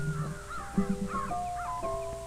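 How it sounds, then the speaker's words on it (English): Crows in a farm cornfield caw repeatedly, several harsh calls following one another at a moderate distance over a steady low background hum, with no talking. "What a nuisance crows can be."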